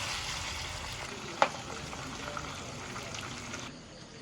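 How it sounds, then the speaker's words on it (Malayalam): Masala-coated chicken fries in a home kitchen pan with a steady, moderate sizzle and a faint crackle, plus one sharp clink partway through, with no speech over it. "സാജിമേൻ്റെ ചിക്കൻ പൊരിച്ചു."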